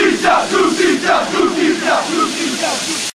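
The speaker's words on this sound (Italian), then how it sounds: "circa un centinaio di tifosi scandiva cori che chiedevano giustizia" Roughly a hundred Samb football ultras in San Benedetto chant loudly in unison for justice, a dense crowd roar with a steady repeated rhythm that fills the whole stretch before cutting off.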